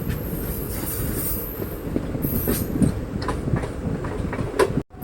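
A train on the Boko to Guwahati line in Assam rumbles past close by near a bridge, its wheels clattering and squealing faintly over the rails in a steady, continuous roar.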